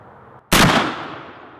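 A single loud, close muzzle-loading Thompson Center Hawken rifle shot fired at a clay target outdoors, a sharp blast with a trailing decay that fades over about a second.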